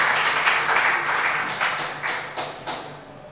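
An audience at a live event claps, a short burst of dense applause that fades quickly, with no talking over it.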